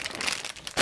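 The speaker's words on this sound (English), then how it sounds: "So let's open up the cake mix." Cake mix package crinkling and tearing open with scissors, a close, continuous rustle of packaging that swells at the end.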